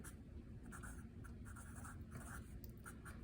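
Quick strokes of chalk on a board during a physics lecture on plasma frequency, coming as short scratchy bursts in an uneven rhythm over a quiet room hum.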